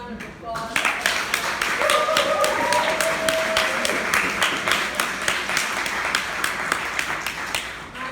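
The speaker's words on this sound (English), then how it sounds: "Let's hear another round of applause." Audience applause at a Rotary presentation, a steady wash of clapping lasting several seconds with voices murmuring faintly underneath.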